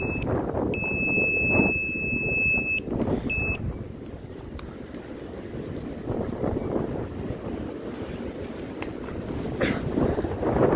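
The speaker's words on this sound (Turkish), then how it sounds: "Havada kuvvetli rüzgar var" Strong wind buffets the microphone in steady rumbling gusts, with faint high-pitched electronic beeps early on.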